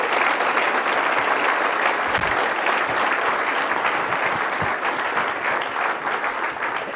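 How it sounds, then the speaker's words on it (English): Sustained applause from a conference audience welcoming an organization's executive vice chairman, a steady dense wash of many hands clapping at even loudness throughout. "Let's have a round of applause for Debbie"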